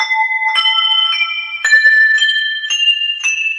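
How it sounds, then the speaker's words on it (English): Bright metallic crotales tones from a sampled instrument patch ring out one after another, about seven clear struck chimes with shimmering, sustained overtones and no talking. "Then we've got the crotales or crotales. So if I do bell chants"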